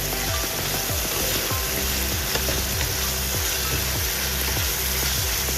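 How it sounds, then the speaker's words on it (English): Steady, close sizzling of small prawns frying in hot oil, a continuous crackling hiss with a low hum running underneath. "keep a watch when you're frying these prawns"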